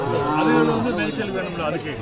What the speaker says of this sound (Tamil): எங்க மாடு